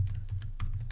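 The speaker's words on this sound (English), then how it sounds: "for now I'm just going to type in some code" Code being typed on a computer keyboard, a steady run of close, crisp key clicks over a low constant hum, with no talking.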